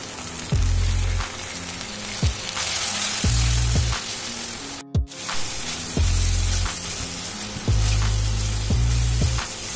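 Spice paste of garlic paste, salt, turmeric, Kashmiri chilli powder and chilli powder sizzles and fries steadily in a pan for a Bengali jackfruit curry, with a few scraping stirs and a brief pause midway.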